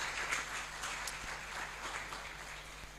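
At a rubber value chain conference marking a fifth anniversary, a distant audience claps faintly and steadily, a soft even wash of applause welcoming a speaker.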